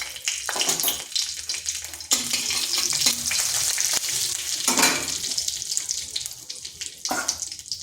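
Bay leaf, dried red chilli and whole cumin seeds sizzle in hot oil in a wok for a vegetarian pointed gourd dish, a steady bright crackle with a few louder bursts and clatters of stirring throughout.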